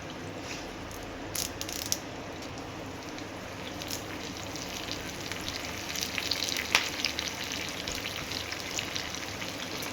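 Curry leaves hitting hot oil in a pan with peanuts for temple-style tamarind rice, a crackling sizzle that swells and spits more busily toward the end, close and without talk.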